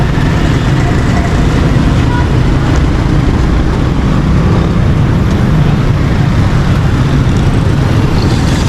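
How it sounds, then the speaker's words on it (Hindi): Heavy traffic jam in Saddar, Karachi: loud, dense roadway noise of car and bus engines idling and creeping, sustained and close throughout. "तो आप देख सकते हैं कि कितना ज़बरदस्त ट्रैफिक जैम है।"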